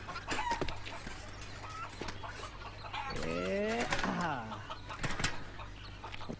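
Chickens cluck and squawk nearby in scattered bursts, with a longer rising cackle in the middle amid some background noise.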